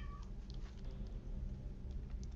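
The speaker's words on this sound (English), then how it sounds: "Again, my cats are being assholes." Cats meow faintly in the background of a room, a few brief cries over a steady low hum, with no talk.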